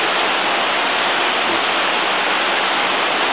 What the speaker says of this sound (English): water rain is really very heavy